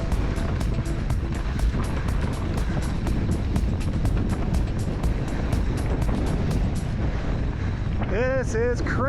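Strong gusting wind roaring across a microphone while mountain biking on a Southern Utah shuttle day, a loud continuous rumble with faint ticking and a short squeaky sound near the end.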